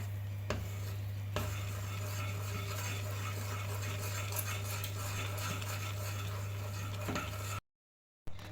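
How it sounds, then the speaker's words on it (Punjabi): A ladle stirs and scrapes a thickening barfi mixture against the bottom of a pan, giving continuous soft scraping strokes with a few sharper knocks and a steady low hum beneath, with no talking. "ਤੁਸੀਂ ਕੜਸੀ ਨੂੰ ਖੁਰਚਣੇ ਨੂੰ ਚਲਾਈ ਜਾਇਓ ਵੀ ਇਹ ਥੱਲੇ ਨਾ ਲੱਗ ਜਾਵੇ"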